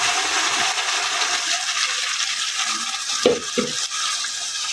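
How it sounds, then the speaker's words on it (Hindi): Tomato paste stirred into ginger and garlic frying in oil for a chicken seekh kabab karahi gravy, giving a loud, continuous sizzle with a couple of dull spoon knocks near the end. "ये देखें जी, हमारा अदरक लहसुन ब्राउन हो चुका है। अब इसमें हम टमाटर का पेस्ट डालेंगे।"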